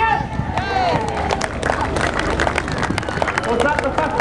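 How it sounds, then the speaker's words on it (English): A crowd at a Woodfest outdoor race cheers and claps for a running racer, a loud, continuous mix of shouting voices, babble and scattered applause close by. "give a cheer!"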